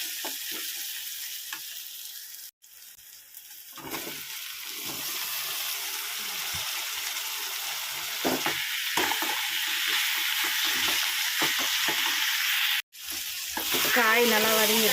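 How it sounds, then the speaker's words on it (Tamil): Eggplant and drumstick pieces go into a pan of oil and softened tomato for a village-style curry, sizzling and frying steadily while a spoon scrapes and stirs them, with a couple of brief gaps and a bright splash of sizzle near the end. "இப்போ கத்திரிக்காய் முருங்கைக்காய் நம்ம சேர்த்துக்கலாம்."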